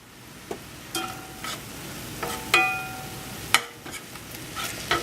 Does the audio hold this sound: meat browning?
yes